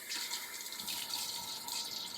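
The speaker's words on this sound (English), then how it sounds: "You'll hear the water on." Water runs steadily from a tap, a continuous splashing hiss close by with no talking.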